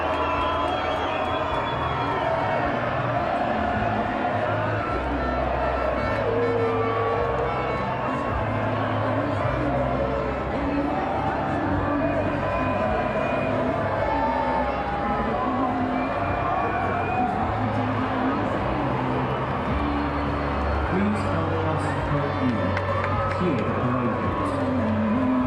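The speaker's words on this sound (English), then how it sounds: "There's the big cheer you get. That's the cheer we've been waiting for." A large crowd cheers at Liverpool FC's Champions League trophy parade: a dense, steady roar of many voices holds loud throughout, close in with scattered shouts and whistles, while someone talks over it.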